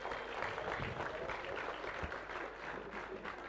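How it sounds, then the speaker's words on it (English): Applause from the audience at a young chef olympiad opening ceremony, a dense, continuous wash of clapping at moderate level, heard from a distance in a large hall. "big round of applause, ladies and gentlemen."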